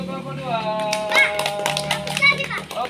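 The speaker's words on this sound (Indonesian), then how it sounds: "Kasih tepuk tangan untuk kelompok 2." Children clap together for a classmate group during a school rhythmic gymnastics PE lesson, a short burst of claps mixed with kids' chatter and a teacher's voice.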